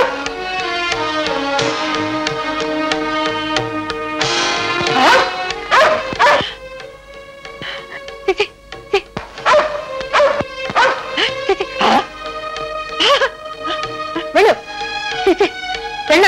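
A dog in a Telugu feature film scene barks and yips repeatedly, loud and close, in quick uneven bursts with whimpering tones, with voices briefly mixed in.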